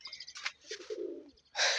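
Pet pigeons perched in a newly built pigeon house coo and chirp nearby, a few short calls including a low rolling coo, ending in a brief burst of brighter noise.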